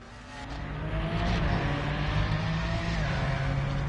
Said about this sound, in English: Engine sounds better on road car